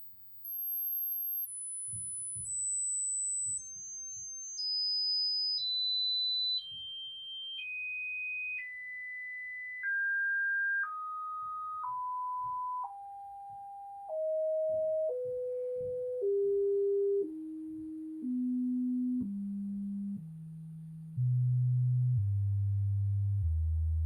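Pure test tones played for a CD player check, stepping down in a long descending series from very high to very low pitch, each steady tone held about a second, clean and alone.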